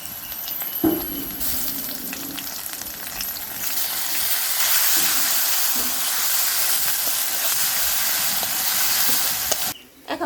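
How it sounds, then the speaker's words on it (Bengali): Ginger-garlic paste sizzling in hot white oil with fried onions and chilies: sharp stirring scrapes at first, then the frying hiss swells and holds loud before stopping abruptly near the end. "এখন দিয়ে দিব আদা রসুন বাটা"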